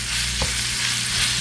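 Meat sizzles steadily as it fries in a pan for keto biscuits and gravy, with a couple of sharper scrapes and clatters as it is stirred and broken up, close and continuous with no talking.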